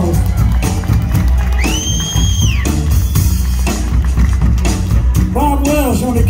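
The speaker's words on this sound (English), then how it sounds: "Let's give a big round of applause." Concert crowd at a show cheering and whooping loudly and steadily throughout, with shouts and a high whistle-like cheer rising above the dense roar of the audience.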